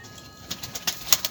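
Soft pigeon coos and a few light flutters inside a coop against a steady background hiss, fairly quiet and close by.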